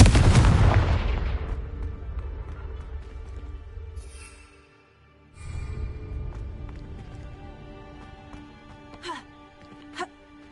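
A Confringo blasting spell in Hogwarts Legacy, one loud explosive burst at the start that rumbles and fades, followed by quieter debris-like thuds and clicks.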